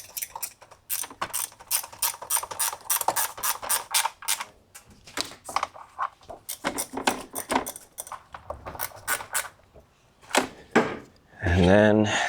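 Ratchet wrench clicking rapidly in repeated runs while head bolts are tightened down on a Briggs & Stratton engine of a John Deere D110 riding mower, close and loud, with brief pauses and a short burst of noise at the end.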